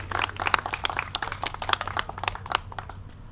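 An audience applauds at a community launch event for a clean water operation, a brief burst of dense, fairly close clapping.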